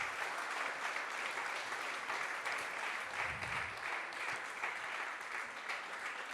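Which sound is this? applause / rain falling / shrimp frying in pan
applause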